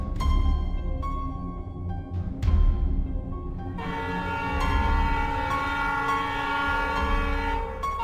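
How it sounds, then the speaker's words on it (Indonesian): A train rumbles past close by and sounds its horn again and again, loud sustained tonal blasts rising over the heavy rolling noise of the railcars. "Kereta api itu membunyikan klakson berkali-kali sebagai tanda peringatan bahaya."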